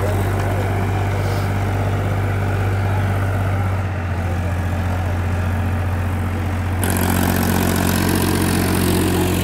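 A diesel tractor engine runs steadily at about 1800 RPM during a village diesel test contest, a constant, loud, droning hum throughout with no pauses.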